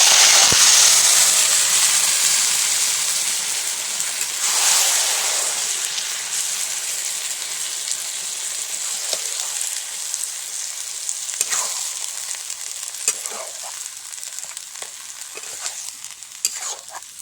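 Bottle gourd hitting hot oil with tempered spices, a loud burst of sizzling that settles into a steady hiss with intermittent stirring scrapes close by.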